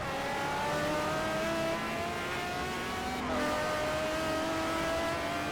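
A Pagani Zonda R in the Forza Motorsport 4 racing game roars loudly and steadily, its engine pitch climbing through gear after gear in rising sweeps, with a brief shift dip partway, and no voices.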